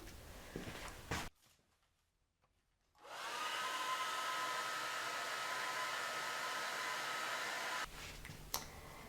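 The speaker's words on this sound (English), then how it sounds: "maybe I'll try a blow dryer on them" A hair dryer whirs steadily at close range for several seconds, a loud continuous blowing hum that then cuts off, with a few handling sounds around it.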